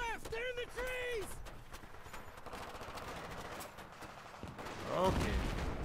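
Gunfire from the Battlefield 3 video game, rapid automatic bursts and shots crackling throughout a firefight, with soldier voices shouting over the clatter and a louder burst near the end.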